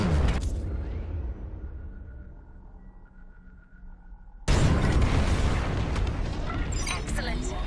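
Bombs detonate on a battle station in Star Wars Squadrons, a sudden loud, broad blast bursting in after a quieter stretch of low rumble and dialogue, then a sustained roaring wash of explosions.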